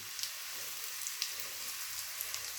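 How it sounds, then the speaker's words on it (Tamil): Garlic frying in oil in a pan while making tamarind paste, a soft, steady sizzle with faint crackling pops, heard up close and quiet, with no voices. "இப்போ பூண்டு உள்ளே போட்டாச்சு. அது நல்லா பொன்னிறமாக செவந்து வரணும்."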